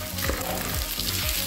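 Tomatoes are added to frying onions in oil left from fried chicken, giving a loud, continuous close sizzle with faint stirring scrapes, no talk.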